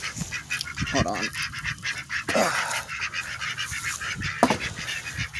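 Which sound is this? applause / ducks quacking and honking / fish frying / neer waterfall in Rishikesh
ducks quacking and honking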